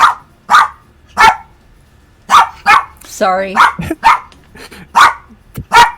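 A pet dog barks in short, sharp bursts close by, about a dozen barks spread unevenly across the stretch, with a brief spoken word between them.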